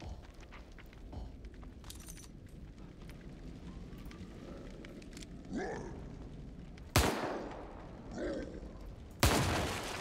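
Rifle shots in The Evil Within 2, two sharp loud cracks standing out over quiet, rumbling game ambience with occasional creature growls in between.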